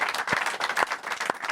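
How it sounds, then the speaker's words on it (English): Live audience applause during a football-themed show: a steady patter of many hands clapping with sharper individual claps cutting through, moderately loud and close, with no speech over it. "Give them all a big round of applause because they are fantastic."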